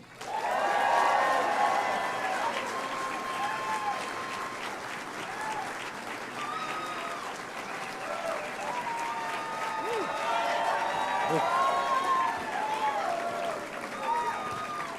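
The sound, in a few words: crowd applause at Nashville rally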